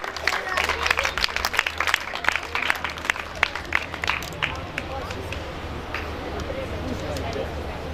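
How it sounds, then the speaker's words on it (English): An audience at a 2021 school speech competition claps for the first-place winner, with quick scattered claps strongest at first, then fading into crowd murmur and chatter. "Do loud clap for Faizan Hadir."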